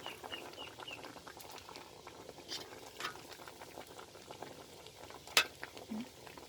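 Water simmering in a pot as fermented fish (pla ra) is blanched and strained in a home kitchen, giving a soft continuous bubbling patter close by, with a few small clinks.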